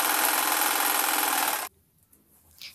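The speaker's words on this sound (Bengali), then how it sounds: "সেইখানে আমি এটাকে সেলাই করে নিচ্ছি" Sewing machine stitching a quilt cover made from a sari, a loud, continuous close whir that stops abruptly, leaving near silence with a faint rustle.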